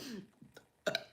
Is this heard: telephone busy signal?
no